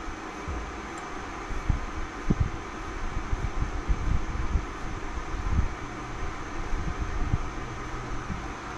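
Steady whirring drone of a lathe spinning while a workpiece is polished, with occasional soft knocks and bumps over the continuous motor hum.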